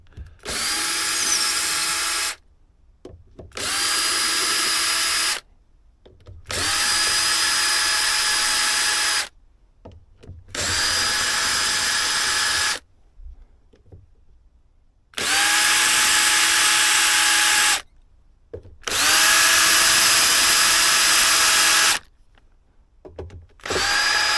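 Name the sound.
power drill removing screws from back of guitar amplifier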